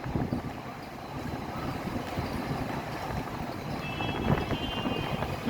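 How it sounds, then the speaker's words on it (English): Strong wind roars across the open deck of the cruise ship Mariner of the Seas, a steady, close, buffeting rush with no voices, with a faint high tone appearing near the end. "It's very windy."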